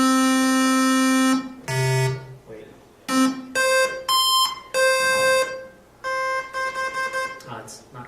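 Commodore PET computer playing square-wave music in two voices at once, loud buzzy beeping tones in short choppy phrases with gaps between notes.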